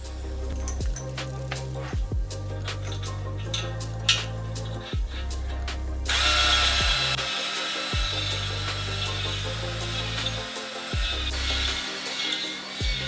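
Aerosol lubricant sprays in a hissing burst that continues steadily for several seconds, following a stretch of rhythmic mechanical thumps and scraping during work on a Mustang 3.7 V6 engine.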